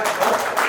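Audience applause at the Saroj Seva Sansthan eighth anniversary celebration, heard as a brief, steady burst of dense crowd clapping with no clear gaps.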